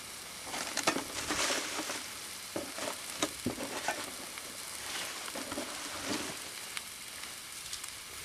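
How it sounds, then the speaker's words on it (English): A burger sizzling on an extended grill plate, steady close sizzling with bursts of crackle and spatter. "So let's go ahead and grill us up a burger."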